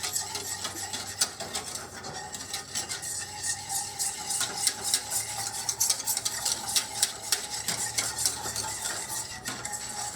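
A whisk scrapes and clinks steadily against a bowl as milk is beaten into a vanilla sauce, a continuous rhythmic stirring heard alone and close.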